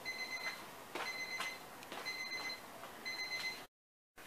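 A kitchen timer alarm set for cooking chili beeps in repeated rapid bursts, four evenly spaced trains of high electronic tones over steady background noise, then cuts off abruptly.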